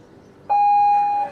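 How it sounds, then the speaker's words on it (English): A rowing regatta start buzzer at the Royal Canadian Henley Regatta for the men's senior lightweight eight: one loud, steady electronic tone held for about three-quarters of a second over quiet background. "There goes the buzzer."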